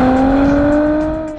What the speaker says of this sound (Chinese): M256 的发动机，使用电控涡轮